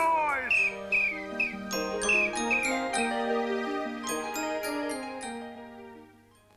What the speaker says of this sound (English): Oh, that noise! That whistle!